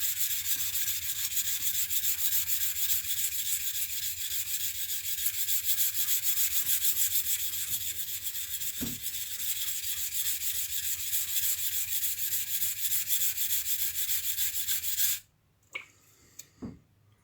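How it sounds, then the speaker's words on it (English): A knife tip is ground on a sharpening stone in a continuous, even rasping scrape for about fifteen seconds, close and fairly loud, then it stops, leaving a few brief taps and knocks. "I should put my finger on the tip and just grind it."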